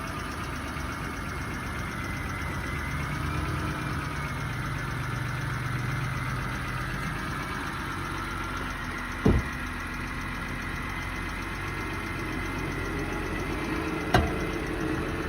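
A car engine idles steadily for a long stretch, a low even hum with a couple of faint clicks partway through.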